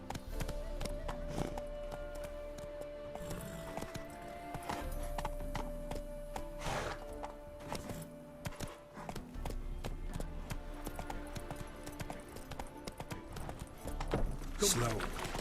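A horse galloping in The Witcher 3 video game, with rhythmic clip-clop hoofbeats running throughout, game sounds layered over them and a voice speaking now and then.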